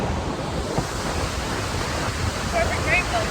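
Huge Icelandic waterfall thundering as a steady, broad roar of rushing water close by, with faint wind buffeting the microphone throughout.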